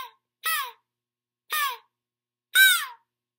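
A handheld game call imitates an antelope doe. It gives three short, nasal, bleating calls spaced about a second apart, close and clear, with silence between them.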